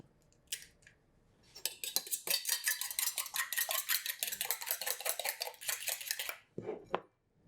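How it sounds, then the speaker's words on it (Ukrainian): A fork beats an egg rapidly in a bowl in a steady, fast clinking rhythm for several seconds, close and fairly loud, then stops. "Розбити яйце і добре збити його виделкою."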